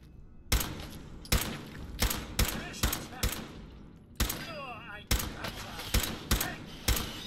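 Sharp, loud gunshots ring out in a rapid irregular series, about a dozen bursts with brief quiet gaps between them, gunfire in Fallout 4.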